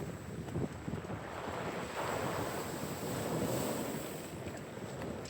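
Heavy, bassy surf rolls onto a Bristol Channel beach in South Wales, a steady broadband roar of breaking waves mixed with gusty wind buffeting the microphone, continuous and fairly loud with no voices.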